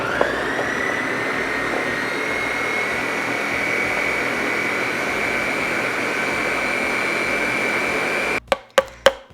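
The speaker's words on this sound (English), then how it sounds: "let this go in your blender for about a minute or 2 until it's nice and creamy" Blender running at high speed on beet hummus, a loud steady whine that holds without a break, then cuts off into a few sharp knocks near the end.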